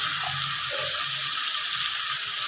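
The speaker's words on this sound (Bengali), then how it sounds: "এবার মশলাটাকে আমি ভালোভাবে কষিয়ে নেব" Spices frying in a pan for a catfish curry with potato and tomato, a steady, dense sizzle that holds evenly from start to finish, close and fairly loud, with a few faint low knocks beneath and no voices.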